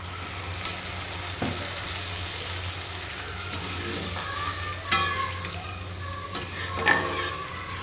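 Water poured into fried spice paste for a Bengali fish curry, with bubbling and sizzling as a spoon stirs and scrapes the pan, plus a few sharper clinks along the way.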